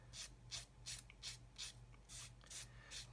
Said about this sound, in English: And then using our sponge sanding stick